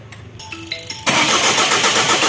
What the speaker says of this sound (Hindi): यहाँ पे सेल्फ करेंगे तो डायरेक्ट अंदर फायरिंग हो जाता है।